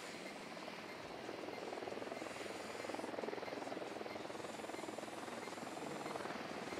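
Helicopter in the video game Ghost Recon Wildlands, a steady rotor drone and engine whir holding at an even, moderate level throughout with no break.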